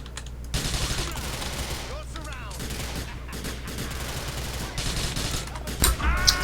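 Sustained gunfire in Grand Theft Auto IV, a dense fusillade of rapid shots and bursts at moderate distance, growing louder toward the end, with someone talking over it.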